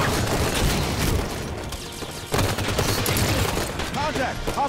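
Gunfire rattles through combat against Promethean units in Halo 5: Guardians Warzone Firefight, with loud dense bursts of automatic fire and booms that run continuously, and game voices calling out over the shooting.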